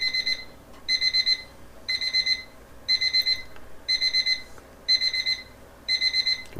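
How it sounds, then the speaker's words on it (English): Kitchen timer alarm going off as cakes finish baking, a shrill electronic beeping in evenly spaced bursts of rapid pulses, about seven groups repeating roughly once a second, clear over a quiet room. "It's my timer telling me my cakes are done."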